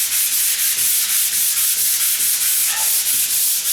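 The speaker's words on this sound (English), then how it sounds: "going to make that rough sandpaper just a hair smoother." Sandpaper rubbed by hand across a door in quick, regular back-and-forth strokes, a loud close rasping hiss pulsing evenly with no speech.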